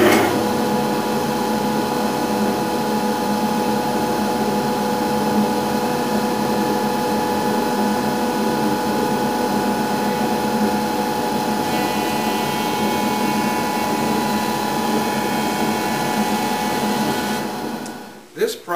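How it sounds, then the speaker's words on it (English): A jointer planes the edge of a stack of wood veneers with a steady, continuous machine whine and hum that runs for most of the stretch before winding down at the end. "I can take this and I can put it on my jointer and just run it through and make sure that that one edge"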